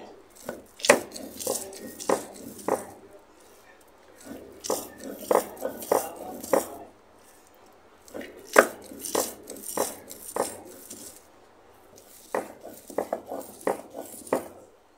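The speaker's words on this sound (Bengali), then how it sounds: "এখন আমি সিমটা বেটে নিতেছি" Flat beans ground by hand for a rohu fish-tail mash, heard as close, rhythmic scraping and knocking strokes. The strokes come in bursts of several quick beats separated by short pauses, and no one speaks.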